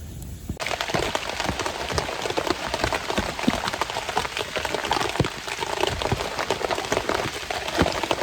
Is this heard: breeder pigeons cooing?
no